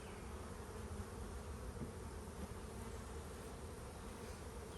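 Honeybees buzz steadily at an open hive that has not been smoked, a dense, continuous drone close by with no pauses and no talk.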